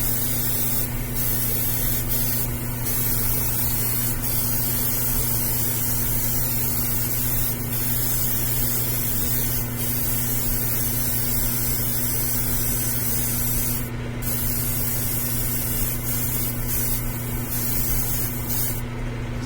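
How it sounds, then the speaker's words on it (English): A spray gun hisses in one continuous, loud, close blast, laying a black base coat on a 1/4-scale resin Beast prototype kit from Graven Labs. A low hum runs underneath throughout. "you want to spray a black base for a metallic"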